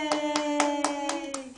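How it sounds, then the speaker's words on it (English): A toddler claps his hands in a steady run of about six soft, evenly spaced claps, close by, over a sustained tonal background. "Clap your hands, Ethan."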